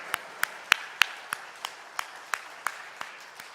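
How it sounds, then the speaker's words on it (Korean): Sparse, evenly spaced hand claps in a church service honoring the choir, roughly ten single claps at a steady rhythm, fairly faint against a quiet room. "하나님께 영광의 박수 올려드립니다"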